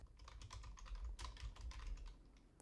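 A quick burst of close, crisp keystrokes on a computer keyboard while typing into the Windows taskbar search, roughly a dozen light taps in irregular rhythm.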